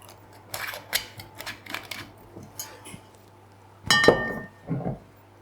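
A screw cap on a still wine bottle twisting and cracking open, a few short light clicks and clinks followed by a sharper, louder snap of metal near the end, close and quiet.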